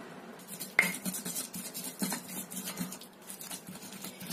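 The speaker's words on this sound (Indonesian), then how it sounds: "Ulek semua bahan tuh sampai halus ya" Spice paste being ground in a stone mortar for an Indonesian tofu dish, a soft, irregular run of scraping and tapping strokes of pestle on stone, close and fairly quiet.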